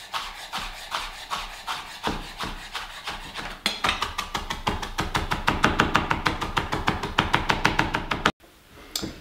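A knife finely minces seeded peppers on a cutting board for guacamole, striking in fast, steady taps that quicken into a dense run of close, crisp chops before stopping abruptly.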